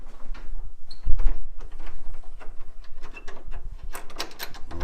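A catch is worked and fastened on the door of an East German antique pine triple wardrobe, giving a series of close wooden knocks, clicks and scraping mechanical rattles with no talking.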